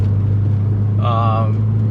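A BMW E46 M3 fitted with a Gruppe M intake, still cold and cruising, gives a steady low engine drone close up, with a brief higher whine in the middle.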